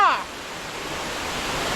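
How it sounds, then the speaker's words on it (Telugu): A waterfall deep in a dense forest near a tribal village in Araku, heard as a steady, full rushing hiss that fills the whole moment after a brief voice at the very start. "ఎలాగుంది వాటర్ ఫాల్ సూపరా సూపర్ గా ఉందా"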